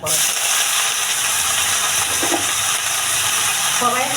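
Mustard seeds popping and spluttering in hot oil in a frying pan give a steady, loud hiss with dense crackle throughout, with no clear voice over it.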